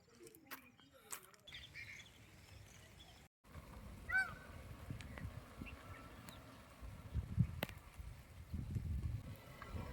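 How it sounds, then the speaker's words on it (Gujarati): Peacocks calling in a forest near a temple as light rain starts, loud honking cries heard several times near and far over a soft patter of rain, with a voice speaking at times. "જો મોર કેવા બોલે છે"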